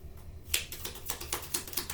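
Tarot cards shuffled by hand in a rapid series of crisp riffling bursts, repeated shuffles close up with no voice over them.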